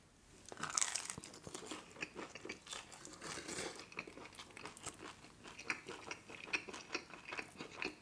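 Someone chews pepperoni pizza with sriracha: close, moist crunching and chomping that repeats steadily, loudest early on, with no talk.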